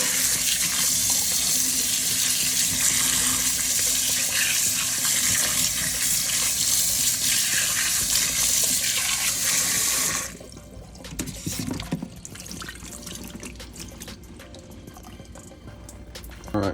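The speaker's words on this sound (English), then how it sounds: "now we're gonna wash these" Tap water gushes steadily into a kitchen sink while tomatoes are washed for a tomato and basil sauce, a loud continuous rush that cuts off after about ten seconds, followed by quieter clinks and handling noises.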